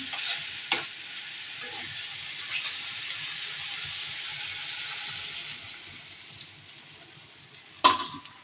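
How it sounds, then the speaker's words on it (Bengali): Jackfruit seeds being stir-fried in a pan give a soft, steady sizzle at moderate distance, broken by a few scraping clinks of a spatula and a louder knock near the end. "কাঁঠালের বিচি ভালো করে কষিয়ে নেব।"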